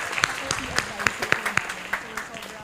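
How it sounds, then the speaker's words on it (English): Audience at a book launch clapping, a loose scatter of distinct claps, moderately close and thinning out, with murmured voices underneath. "I think we should give sir a huge round of applause."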